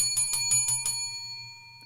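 A service bell is struck five times in quick succession, each bright metallic ding ringing clearly before the tone fades out alone.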